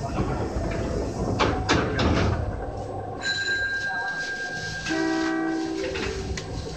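An Osaka Metro Sakaisuji Line 5300 series train runs through a tunnel with a steady loud rumble, then rising motor whine and tonal hums as it travels, with no talk heard.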